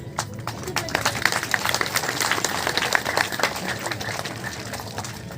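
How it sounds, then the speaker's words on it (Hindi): Applause from an audience at a Hindi religious discourse, a dense wash of many hands clapping continuously at moderate loudness, with a preacher's voice over it. "ताली बजाने की जरूरत नहीं है।"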